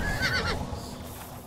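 A horse in the Oblivion video game lets out a single close whinny in the first half second, then the sound fades into a low background rumble.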